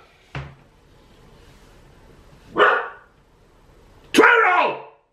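Dogs bark indoors in a few separate outbursts, the first a sharp short knock-like bark and two louder bow-wow barks later, close by, with no talk over them.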